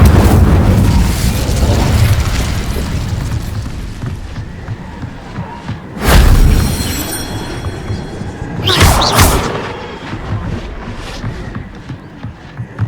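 A fire spell cast in the Hogwarts Legacy video game lands as two broad bursts of flame, one after the other, each rising to a loud whoosh and dying away. A low rumble and faint background sounds run beneath them.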